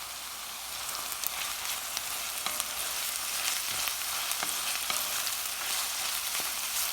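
Ginger and garlic fry in a Le Creuset balti dish, a loud, close, continuous sizzle with scattered sharp crackles and pops as they are stirred, with no talk.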